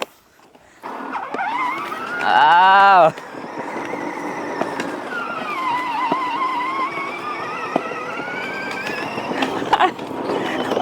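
A restored RC backhoe loader's small electric motor whines as it drives in reverse, a close buzzing drone with a sharp rising pitch sweep early on, rattling throughout, while someone talks over it.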